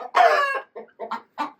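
A hen clucks loudly and close after laying an egg. One long drawn-out squawk is followed by a few short, choppy clucks.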